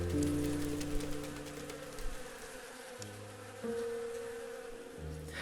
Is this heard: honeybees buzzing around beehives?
yes